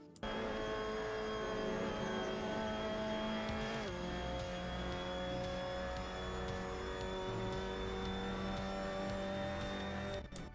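A Mazda MX-5 Cup race car lapping Hockenheimring in Assetto Corsa, its engine droning steadily at high revs for about ten seconds, with a brief dip as it shifts or lifts near the four-second mark, loud and continuous with no talk.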